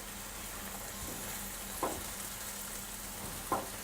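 Mushrooms and peppers sizzling steadily in a frying pan, a continuous moderate hiss broken twice by sharp scrapes of stirring, close by with no talk.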